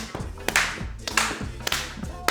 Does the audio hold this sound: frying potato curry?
no